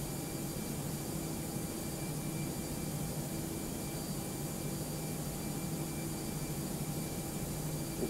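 Steady, loud broadband roar of an A321 airliner's jet engines on approach to land at London Gatwick in fog, simulated in X-Plane, continuous and unchanging throughout with no talk.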